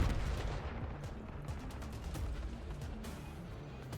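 Muffled gunfire through a wall on the Nuketown map in Call of Duty, a dense, steady rattle of low thuds running throughout at moderate loudness with no voices.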